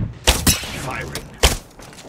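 Gunshots in the battle royale game Apex Legends: a few sharp, close reports in quick succession, another after a short gap, over a low background rumble.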